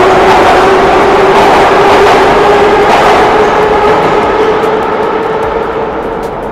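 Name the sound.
old train built in 1938 running noisily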